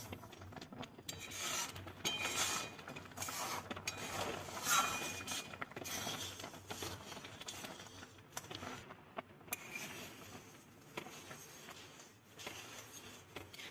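A spoon scrapes and rubs around the bottom of a pot of thick cauliflower payesh, a Bengali rice pudding, in steady soft rasping strokes, faint and close with no talking.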